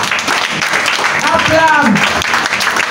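A church congregation applauds: a dense, steady wash of clapping runs under a voice speaking over it, for a few seconds.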